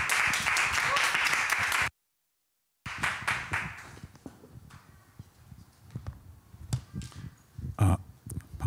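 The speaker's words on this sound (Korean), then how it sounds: "우리 목사님 나오실 때 큰 박수로 환영해 주시겠습니다" A church congregation claps at a Sunday worship service to welcome the pastor: about two seconds of dense, steady applause, then a brief cut to silence, then someone speaking over soft room noise.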